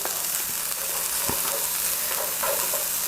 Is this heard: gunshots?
no